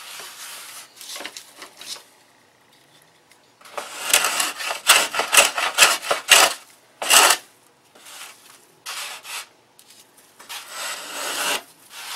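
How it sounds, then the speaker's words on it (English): Close, rasping strokes of sandpaper on a Millennium Beam model aircraft wing come in dense bursts separated by brief pauses, with no talking. "Now it's all about sanding."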